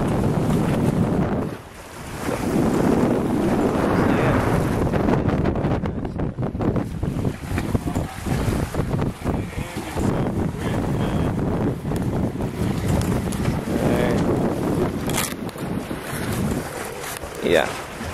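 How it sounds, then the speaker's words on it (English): Steady, loud wind roaring over the microphone aboard a sailboat under way, mixed with rushing water and waves against the hull, continuous for about eighteen seconds. "the wind is pushing us along"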